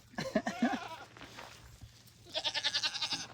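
A baby goat bleats close by, a short wavering call at the start and a longer, higher quavering bleat near the end, with a quiet pause between.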